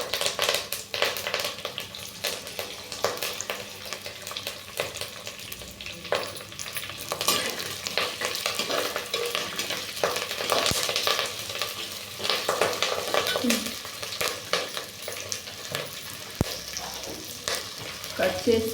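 Curry leaves sizzle and fry in a pan while being stirred, a steady close crackle with scraping strokes of the spoon running throughout, no voices, while cooking a ripe ivy gourd (dondakaya) chutney.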